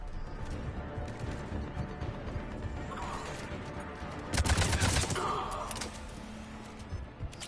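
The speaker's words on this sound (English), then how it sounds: "The cannon fire is clearing the way." Cannon fire in the video game Mass Effect: a muffled rumble of heavy blasts and crashing impacts, peaking in a loud burst midway under a continuous layer of game noise.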